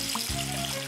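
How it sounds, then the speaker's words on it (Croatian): Bubbles from a toy duck in bath water in a cartoon bath scene, a steady bubbling, gurgling wash of water with sustained musical tones running underneath. "Patkica pravi mjehuriće! Mnogo mjehurića!"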